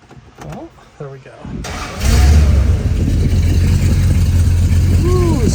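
A 1969 Dodge Dart, sitting 22 years, cranks and fires up, then settles into a loud, rough, steady rumble with a revving rise near the end; someone talks briefly before the start.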